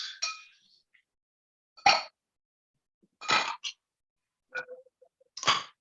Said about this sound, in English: Then we're going to throw some ice in that. This is in a Collins glass.